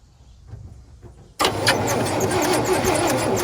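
A 1958 Chevy Delray engine cranks briefly with low, uneven churning, then catches and fires up into a loud, steady, rough run close by.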